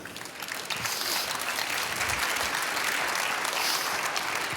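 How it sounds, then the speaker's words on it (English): Sustained applause from an audience, steady and dense clapping that swells after a moment and continues throughout. "And an applause for you."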